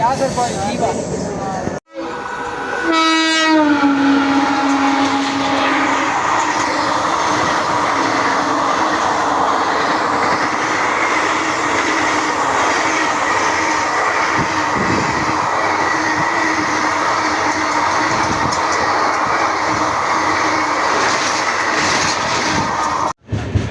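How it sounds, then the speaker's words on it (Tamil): An Avadi suburban train runs on its rails near Chennai, a loud steady rumble and rattle filling the carriage from start to finish, with a brief sharp break near the start. "ஆவடி ட்ரெயின் பாட்டுக்கு போயிட்டே இருக்குது"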